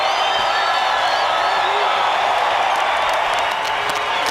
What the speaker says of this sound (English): And the crowd giving him props for the effort.